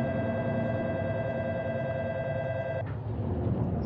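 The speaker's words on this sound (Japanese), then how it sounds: "発車メロディは普通の発車ベルなんですね。" A station departure bell in a Plarail train video game, a continuous electronic ringing tone held steadily for about three seconds before stopping abruptly, with background game noise continuing.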